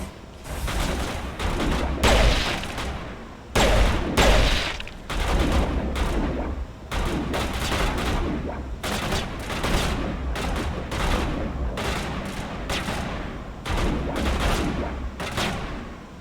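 Sustained gunfire and fusillade bursts in the Mass Effect game, loud repeated volleys of shots with brief gaps, continuing steadily throughout with deep booming impacts underneath.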